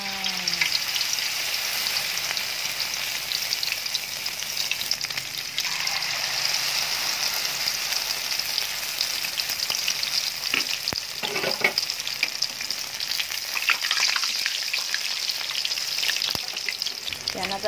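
Anchovy omelette (tortang dilis) fries in a pan over low fire, a steady close sizzle of bubbling oil with occasional stirring and spatula clicks, no talking.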